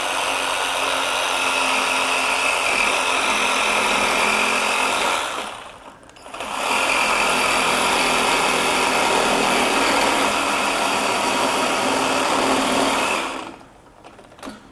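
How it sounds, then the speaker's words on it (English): A SKIL 12V brushless jigsaw with a metal blade, orbit off, saws through aluminum diamond plate in two loud, steady buzzing runs, with a short pause between them. "I just grabbed a piece of aluminum diamond plate here. And again, I got my metal blade in."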